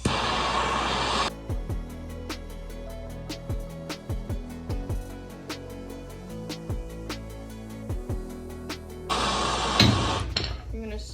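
Heated metal on a scratch-built dune buggy front chassis is struck with a hammer in a steady run of sharp ringing blows, close and clear, each leaving a brief metallic ring. Louder workshop noise opens and closes the sequence.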